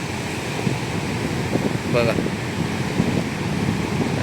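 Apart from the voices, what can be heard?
strong sea waves crashing on the shore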